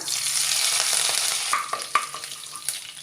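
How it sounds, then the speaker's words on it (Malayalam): Curry leaves hit hot oil that was used for frying chicken for a biryani, giving a loud, steady sizzle and crackle with occasional sharper pops and stirring clinks partway through. "നമുക്ക് ഈ എണ്ണയിലേക്ക് ഒരു ചെറിയ കൈപ്പിടി കറിവേപ്പില ഇട്ട് കൊടുക്കാം."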